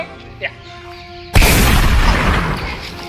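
A single loud gunshot-like boom bursts in after a stretch of quiet room tone, then leaves a long rumbling, crackling tail that slowly fades.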